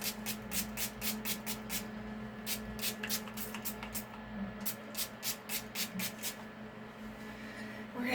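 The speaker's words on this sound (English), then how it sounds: "we're going to just put some setting spray on" Setting spray is misted onto a face during a makeup session, heard as a long series of short, crisp hissing spritzes in quick bursts, close and fairly loud, over a faint room hum.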